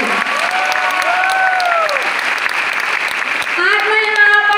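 Applause from a ceremony audience in Raipur, honouring a man named Himmat, sounds as a steady, dense wash of clapping throughout. Whistle-like tonal sweeps ride over the clapping, and a short tonal burst comes near the end.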